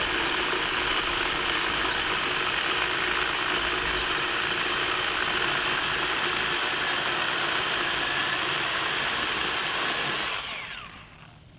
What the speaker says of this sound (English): I just want to do a full cut test on some dead black locust tree.